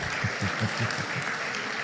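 A church congregation claps at a Sunday service, the sound a broad, steady wash of hands that goes on for the whole moment, with a few low thumps showing through and no talk over it.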